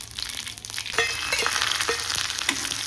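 Cumin seeds crackling in hot oil in a pan for Maharashtrian pitla, a close bright sizzle with a few sharp pops and a low steady hum underneath.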